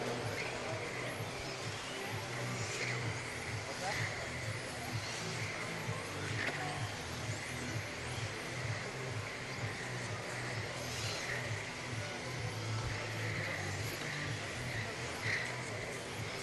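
Radio-controlled touring cars in a modified-class race, a thin high electric whine and buzzing of several small cars running together at a steady level across a track, with a faint voice and crowd-like background underneath.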